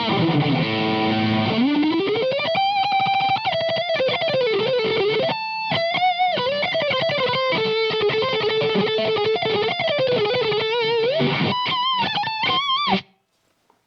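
Distorted electric guitar runs through a pedal into a Marshall Code 50 amp, playing loud sustained lead lines with bends and choppy chord stabs for about thirteen seconds before cutting off sharply.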